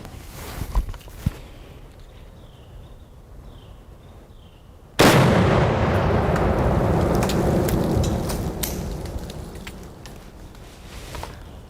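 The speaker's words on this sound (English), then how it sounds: "It's sitting on 1 pound of explosives, and I'm going to set them off with my PWS 308 AR." A .308 AR rifle shot sets off one pound of explosives under a Glock pistol outdoors, a sudden loud blast halfway through that rolls into a long rumbling, crackling decay after quieter background noise.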